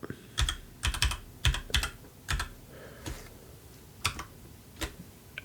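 Quick bursts of keystrokes on a computer keyboard while entering a spreadsheet formula, clustered clicks with short pauses between groups, close and clear with no talking.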